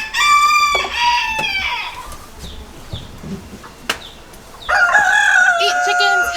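Backyard chickens cluck and crow in loud bursts at the start and end while being fed fish, with quieter scratching and calls between.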